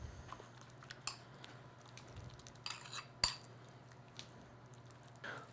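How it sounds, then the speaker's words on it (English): A spoon clinks and scrapes against a bowl while stirring dried chives and onion powder into a mixture, with light intermittent taps and one sharper clink over a faint low hum. "Okay, stir that all together."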